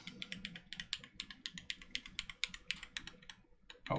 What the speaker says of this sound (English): So let's test this keyboard and make sure everything works.